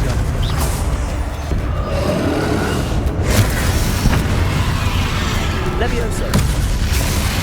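Confringo blasting spell going off in Hogwarts Legacy during a duel, heard as a dense, continuous rumble of booming blasts and crackling bursts with voices under the din throughout.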